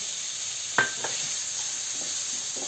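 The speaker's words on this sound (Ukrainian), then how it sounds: "Дали 3 ложки олії і смажимо цибульку." Steady sizzling of onions frying in sunflower oil in a pan, with a couple of soft utensil clinks near the start.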